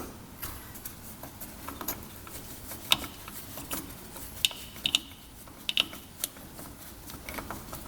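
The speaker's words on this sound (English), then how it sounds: "Let's get that bolt out." A ratchet clicks and ticks steadily while backing out the cam chain tensioner bolt on a UTV engine, fairly faint and close, with a few sharper metallic taps and no talk.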